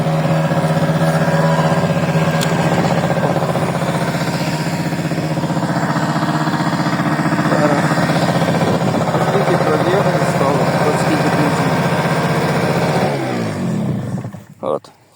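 A Honda Dio 27 scooter engine runs steadily while riding off-road, a loud continuous mid-pitched drone close by that holds for most of the stretch before cutting off near the end.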